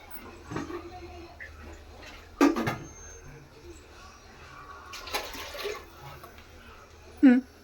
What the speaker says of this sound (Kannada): ನೀರು ಹಾಕೊಳ್ಳೋಣ.